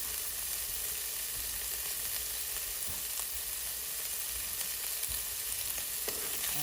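Sausages frying in their own grease in a pan, a steady loud sizzle with crackles and occasional pops throughout, close by and with no voices.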